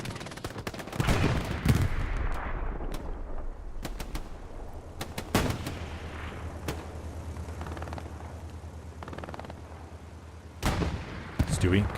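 A strafing run in the Hell Let Loose video game: heavy, booming gunfire and explosive impacts hit in loud clusters, with sharp cracks scattered between them and a steady rumbling battlefield backdrop.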